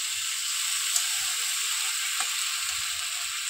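Taro stolons with prawns frying in a pan and stirred, a steady close hiss of sizzling oil with occasional soft scrapes and clicks of a spatula.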